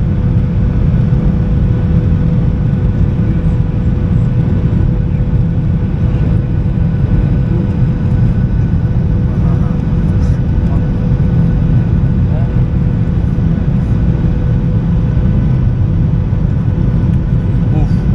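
Cabin of a passenger airplane descending fast toward landing at Batam, Indonesia: a loud, constant low engine and airflow roar fills the whole stretch while people talk over it.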